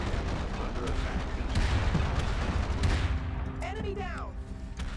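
Turret gunfire from the real-time strategy game Era One rattles in a dense, loud stream of overlapping shots, easing off near the end as a brief whooshing effect sweeps in.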